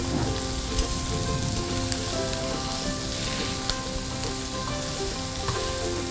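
Corned beef sizzles and fries in a wok with chopped garlic, a loud, continuous crackling hiss with occasional stirring scrapes and no talk.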